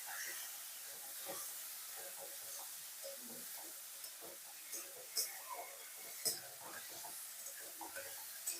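Tomato frying in a pan with very little oil over a raised flame gives a faint, steady hiss, with soft scattered ticks and scrapes from stirring.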